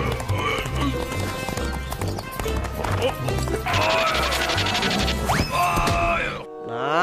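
Horse hooves clip-clop in a quick, loud rhythm, joined by high whinnying neighs toward the end, over a busy, loud backdrop.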